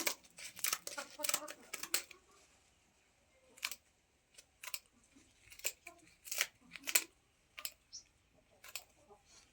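Scissors snip through chicken wing feathers while trimming the wings of country hens, a series of sharp close cuts and clicks in uneven bursts, with quiet gaps between.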